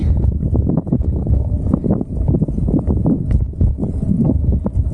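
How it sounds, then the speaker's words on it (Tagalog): Strong, continuous, very cold mountain wind on the Atok to Tinoc road near Sagada roars and buffets close to the microphone, a dense low rumble with gusty fluctuations throughout. "Lakas ng hangin."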